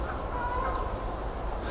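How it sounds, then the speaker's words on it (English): Honking bird calls drift in from a distance over a steady low rumble of wind or traffic, faint and intermittent. "Nice, migrating birds."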